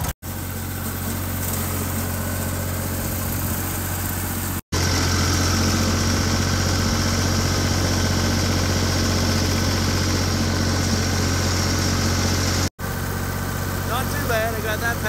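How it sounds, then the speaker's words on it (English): A tractor engine runs steadily and loudly while bush hogging a paddock, a continuous low droning hum with heavy vibration, close by, cut by two brief dropouts. Someone speaks over the engine noise. "We're gonna bush hog this paddocks here and then the paddocks next to it"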